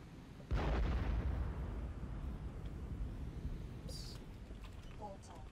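LRM missiles fired in MechWarrior Living Legends give one deep, heavy booming burst, then a long rumbling roar that slowly fades. A faint voice and small game sounds sit underneath.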